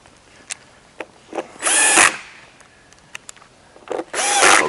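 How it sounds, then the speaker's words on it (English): Cordless drill driving screws into a conveyor assembly, two sustained whirring runs with short clicks and taps between them, close and loud with no talk. "I'm putting my drill in reverse"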